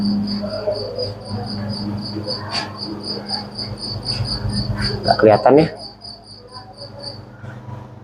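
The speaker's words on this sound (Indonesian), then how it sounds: "Ada suara jangkrik juga lagi." Crickets chirp in a steady, evenly pulsed trill throughout a darkened nocturnal animal exhibit at Taman Safari Indonesia, while a person speaks briefly nearby and a short clatter passes late on.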